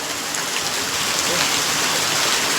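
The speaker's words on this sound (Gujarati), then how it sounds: "જો જોરદાર વરસાદ આવે છે" Heavy rain pours down steadily, a loud, dense hiss with no break.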